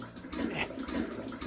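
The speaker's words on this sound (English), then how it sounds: "We gotta flush this." A toilet flushing in a plunger simulator game, a faint steady rush and gurgle of draining water, brief and continuous.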